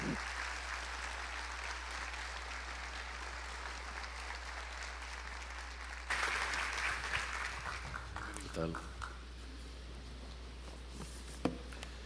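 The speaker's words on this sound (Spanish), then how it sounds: "Recibámosles con un fuerte aplauso" An audience applauds to welcome a historian and lecturer onto the stage, with steady clapping that swells after the midpoint and then thins out, alongside talk.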